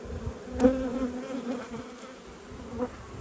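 Honey bees buzzing close by during a hive inspection, with a frame pulled from the red hive; a steady hum with a couple of brief louder passes.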